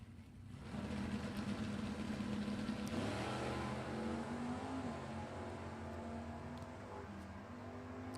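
A 1962 Dodge Dart and a 1965 Chevy funny car drag racing at an NHRA Hot Rod Heritage Series event, a faint, distant, continuous engine roar that shifts in pitch as the cars run down the strip.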